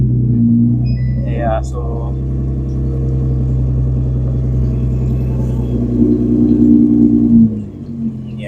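A Nissan GTR R35 sports car engine idles with a deep, steady low rumble, close and continuous, someone speaking briefly over it before the sound drops off near the end.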